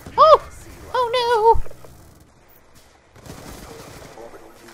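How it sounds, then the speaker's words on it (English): Bursts of video game gunfire rattle in quick succession, mixed with excited shouting from a player, then a quieter stretch with softer shots in the background. "he just kept shooting"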